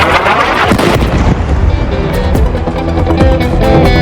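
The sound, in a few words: explosion from a strike on refugee tents in Gaza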